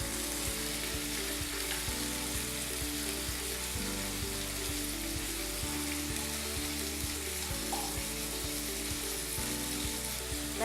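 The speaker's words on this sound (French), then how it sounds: "Nous laisser cuire les deux côtés." Cassava pieces fry in a pan, a steady dense sizzle and crackle running unbroken throughout, faint and even, with a low rhythmic hum underneath.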